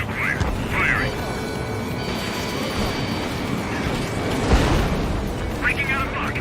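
In Ace Combat 7, a missile launches with a loud rushing whoosh over a constant roar of jet engines and combat noise, while voices come over the radio.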